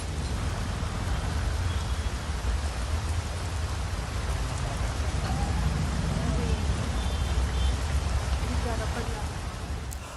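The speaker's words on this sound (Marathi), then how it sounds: "सलग 4 दिवस मुसळधार पाऊस झालेला आहे" Heavy downpour over Pune after days of continuous rain makes a dense, steady hiss of drops hitting surfaces, loud and unbroken, with a voice talking over it.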